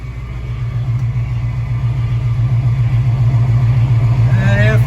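A running 1969 Pontiac Firebird with Holley Sniper fuel injection idles steadily and loudly up close, a low rumbling engine drone with a power steering pump whine rising near the end, no talk over it.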